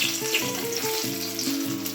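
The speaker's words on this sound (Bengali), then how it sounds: "বেগুন ভাজা বসিয়ে দিয়েছি" Eggplant slices fry in a pan in a home kitchen, giving a steady, close sizzle that runs throughout, with a faint tonal hum underneath.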